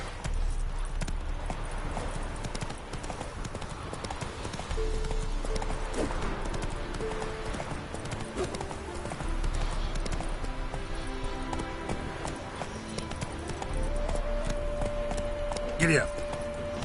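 Horse galloping in the video game The Witcher 3: Wild Hunt, a rapid, rhythmic clip-clop of hooves that runs throughout, with a snort and faint music, and a voice heard briefly.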